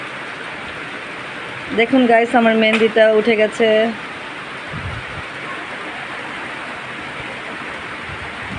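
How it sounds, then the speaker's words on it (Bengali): Steady rain falling during a summer downpour, a soft even hiss running throughout while someone speaks briefly over it near the start. "তো আমি বৃষ্টির পানিটা ধরছি"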